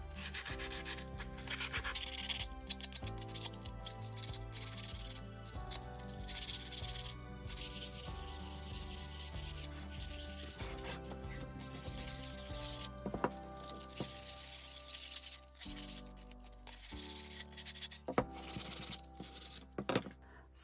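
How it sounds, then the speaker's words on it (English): Sandpaper rubbing over small wooden pieces for a homemade soap cutter, a steady close scratchy rasp in repeated strokes, faint and quiet under background music. "Now I'm just going to sand all my pieces and nail them together."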